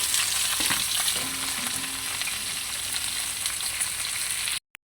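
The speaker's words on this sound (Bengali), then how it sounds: "এর মধ্যে পেঁয়াজ, ক্যাপসিকাম হালকা করে ভেজে নিয়ে সকল মিক্স ভেজিটেবলগুলো দিয়ে দিব" Shrimp, capsicum, onion and chili fry hard in a pan, a loud dense continuous sizzle with faint stirring, then it cuts off abruptly at the end.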